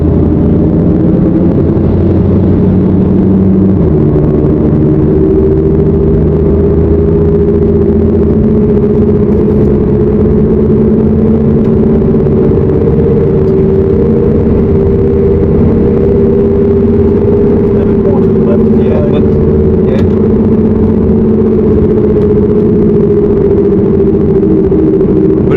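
A Volkswagen Golf 7 GTI Nürbspec accelerates flat out around the Nürburgring, its engine droning loud and continuous with a deep rumble and rising and falling pitch through gear changes, heard from inside the cabin.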